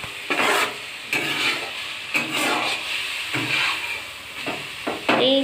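Red amaranth greens stir-fried in a pan sizzle steadily while a spatula scrapes and tosses them in several rhythmic strokes, close up with no talk.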